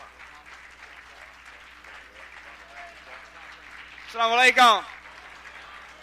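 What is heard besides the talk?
warm round of applause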